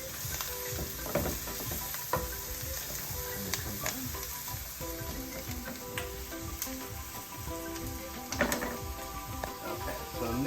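Garlic sautés in a hot pan with serrano peppers, onions and shallots, giving a steady close sizzle with stirring scrapes and a few louder clatters throughout.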